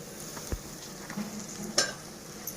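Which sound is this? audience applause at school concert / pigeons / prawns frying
prawns frying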